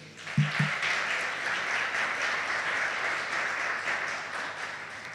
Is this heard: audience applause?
yes